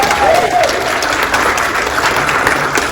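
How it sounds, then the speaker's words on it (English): Dense, steady audience applause fills the room at a growth-focused talk, a sustained wash of many hands clapping close by for the full stretch without a break. "Let's give her a round of applause as well."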